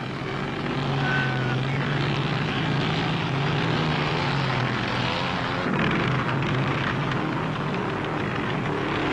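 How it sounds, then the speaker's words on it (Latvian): Sidecar motorcycles race in Latvia during the late 1940s to mid-1950s, a dense, steady engine roar droning loudly and continuously throughout. "Starts motocikliem ar blakusvāģiem."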